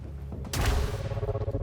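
A turret in the Quantum Break video game opens fire, a sudden loud burst of rapid gunshots with a deep low rumble that continues to the end.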